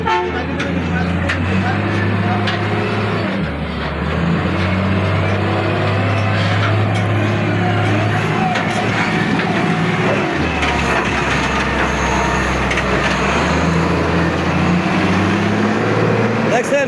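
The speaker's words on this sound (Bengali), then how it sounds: "এই যে দেখছেন গাড়িগুলো আমাদের গাড়িগুলো দেখছেন আস্তে আস্তে আস্তে" Delivery vehicles creep slowly along the road, their low engine rumble droning steadily for the whole stretch, with faint background traffic and an occasional distant horn.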